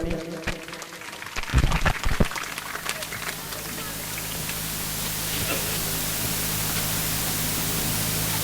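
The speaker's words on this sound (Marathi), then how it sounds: "जोरदार टाळ्या वाजवायच्या सर्व विद्यार्थ्यांनी." Students at a birthday felicitation event in Choronchi clap loudly: after a brief voice at the start, a dense, steady wash of applause from a large crowd builds and holds, broad and continuous to the end.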